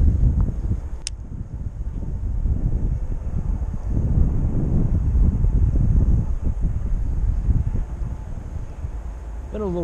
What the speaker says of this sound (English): Got a nice south wind blowing